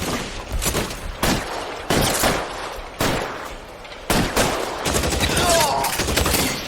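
Gunfire in the video game L.A. Noire during a Reefer Madness DLC case: several loud, close bursts of rapid shots in quick succession, each cracking sharply with a brief ringing decay.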